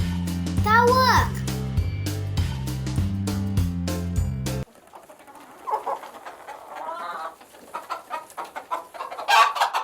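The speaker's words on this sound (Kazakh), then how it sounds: "Тауык." A chicken clucks several times right after a bright musical jingle, the short fowl calls fairly close and clear against a quiet background.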